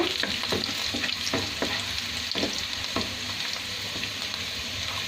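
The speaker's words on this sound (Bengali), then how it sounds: "আদা রসুনটা যখন একটু লাল হয়ে আসবে তখন পেঁয়াজ দিয়ে দিব।" Chopped garlic and ginger fry in butter in a pan for noodles, with a constant close sizzle broken by repeated scraping strokes of a spatula stirring in an uneven rhythm.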